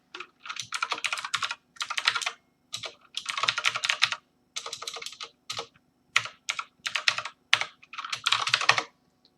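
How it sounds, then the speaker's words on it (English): Fast computer keyboard typing while coding a Java game, delivered in quick irregular bursts of crisp key clatter separated by short pauses, close and alone. "I try to type too fast and I'm typing everything wrong"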